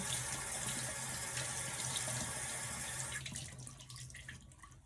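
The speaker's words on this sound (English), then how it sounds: "So then I just take like a little face rag, wash towel. I'll get it wet." A bathroom tap runs steadily to wet a small washcloth, a close, continuous hiss of flowing water that thins out and fades toward the end, with no voices.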